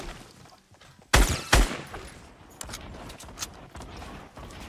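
Gunfire in a battle royale game, two loud close shots early, then a string of fainter, more distant cracks and clicks spread over the rest.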